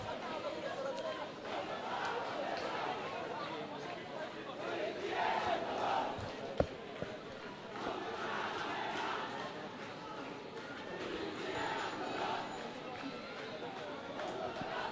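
A crowd of protesters chanting slogans on a road near Dhanmondi 32 in Dhaka, rhythmic massed voices rising and falling in repeated waves, steady and moderately distant, with a sharp bang midway.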